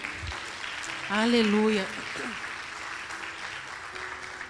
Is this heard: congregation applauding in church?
yes